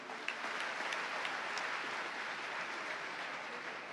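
A crowd at a Hanuman katha religious gathering claps to welcome a young girl, a soft, distant, steady wash of applause with a few sharper claps standing out near the start.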